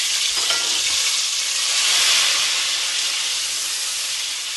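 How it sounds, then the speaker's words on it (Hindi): Tomatoes drop into hot oil left from frying onions golden, producing a loud, continuous hissing sizzle that holds steady and fades slightly toward the end, with no talking. "अब ये इसी ऑयल में हम टमाटर डाल देंगे।"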